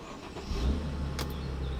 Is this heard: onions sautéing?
no